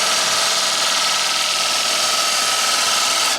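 A wooden bowl turns on a lathe while a gouge cuts around its rim, giving a steady, loud, hissing scrape with a faint ringing hum underneath that runs evenly and stops abruptly at the end.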